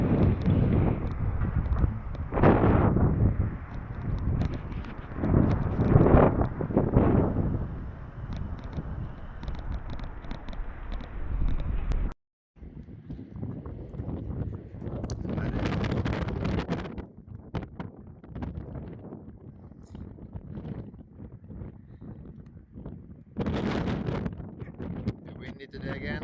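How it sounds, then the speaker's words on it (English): Strong wind gusting outdoors on a bikepacking trip, roaring loudly against the microphone in uneven surges with a brief dropout partway through and calmer stretches between gusts. "Windy today again."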